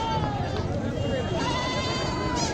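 Goats bleat at a busy village goat market in Jawala, a couple of drawn-out wavering calls over a dense, constant murmur of crowd chatter.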